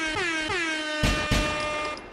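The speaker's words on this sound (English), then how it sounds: "Hit them air horns, OD." Air horn blasts sound loudly and close: a blaring multi-tone horn in several short repeated bursts, ending with a sustained honk.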